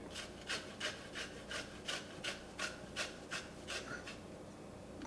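A hand grater is worked for Ayurvedic rooibos chai, making about a dozen even, rasping strokes in a steady rhythm, close and fairly quiet, with no one talking.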